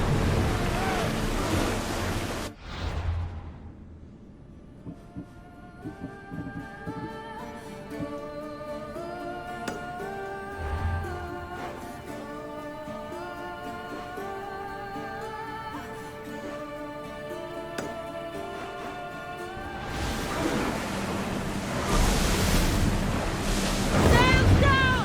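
Ship sailing on open sea in the video game Assassin's Creed Odyssey: steady surf and wind rush at the start and end, with a sustained musical score in between and waves swelling loud again near the close.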